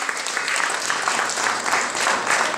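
Brief burst of applause for a contestant at a school spelling contest, many hands clapping fairly loudly and evenly throughout.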